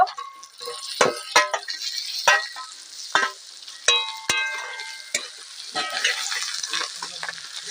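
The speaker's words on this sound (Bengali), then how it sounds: "এবার আমি নেড়ে তুলে নেব মোচাটা" Banana flower fries in a pan for a mochar ghonto while being stirred, with a steady crackling sizzle broken by sharp metallic spatula clanks and scrapes against the pan, close by.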